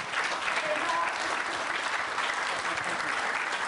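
Steady, dense applause from a school audience after a junior school talent show performance, continuous and fairly loud throughout with no talk over it.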